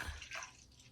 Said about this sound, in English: I'm just going to pour this gallon of milk, and this is again whole milk